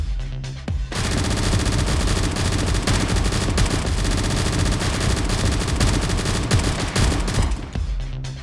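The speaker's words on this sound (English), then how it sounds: "their sudden arrival presented a great opportunity to test out my minigun" A minigun in the zombie survival game Project Zomboid fires a continuous, dense, loud burst of rapid shots for about seven seconds before cutting off.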